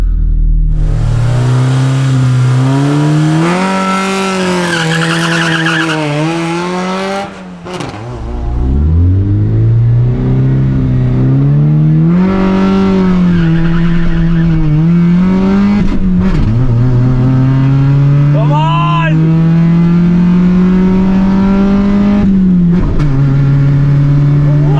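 A turbocharged Honda Del Sol project car with a drag racing driver revs hard and accelerates through several gears, the engine note climbing and dropping between shifts, loud and close, with a voice briefly heard beneath.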